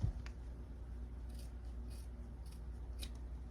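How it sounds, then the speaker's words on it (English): Scissors cutting across a fabric strap for a trick-or-treat bag, a faint close snip at the start followed by several soft, rhythmic cutting crunches, with no talk. "I'm just going to cut across with scissors"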